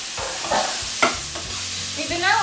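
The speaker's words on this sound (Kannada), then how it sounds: "ಇವಾಗ ನಾನು ಟೊಮೆಟೊ ಹಾಕ್ತೀನಿ." Chopped tomato goes into a pan of frying onions and is stirred, with close scraping and clattering strokes over a lively sizzle.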